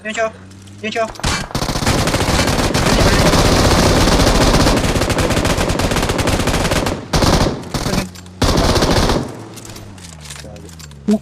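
Rapid automatic gunfire from the mobile game PUBG Mobile, loud and sustained bursts lasting several seconds with brief pauses, close and dominant over a voice talking.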